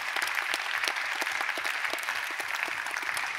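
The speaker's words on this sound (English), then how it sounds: "Applause to you." Steady applause from a conference audience at a kick-off event, a dense even wash of many hands clapping at moderate level, fairly close, with no voices over it.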